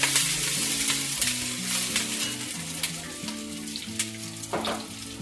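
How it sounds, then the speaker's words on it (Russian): Pork and carrots fry in very hot oil and are stirred, giving a loud, dense sizzle. Quick scraping strokes break through repeatedly over a steady tonal hum. No one talks. "поскольку масло у нас раскалено чтобы вот это мясо проваривалось. Можно сразу же добавить морковь. Также перемешиваем."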